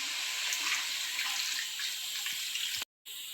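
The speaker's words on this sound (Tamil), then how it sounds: "இப்போ நம்ம தேவையான அளவு தண்ணி சேர்த்து காய்கறியெல்லாம் நல்லா வேக வைக்கணும்" Water is poured into a cooking pot of vegetables for sambar, a steady close splashing rush that runs continuously, cuts off briefly near the end, then resumes.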